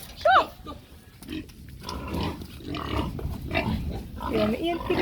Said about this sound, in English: these are some piglets over here.